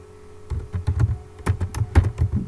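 Keys clatter on a computer keyboard while a message is typed in MATLAB, a quick irregular run of close, crisp clicks with brief pauses and no voices.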